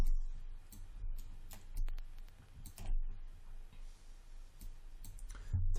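Computer mouse clicks while modelling in Maya 2017, sharp isolated taps scattered at an irregular pace, close to the microphone over a quiet room.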